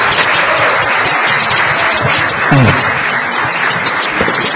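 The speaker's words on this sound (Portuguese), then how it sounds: "Vamos aplaudir o Senhor bem bonito, recebendo o pastor Jamil." A church congregation at a Foursquare Gospel service in Taquaritinga claps steadily, a dense, even wash of applause that holds at a constant level throughout.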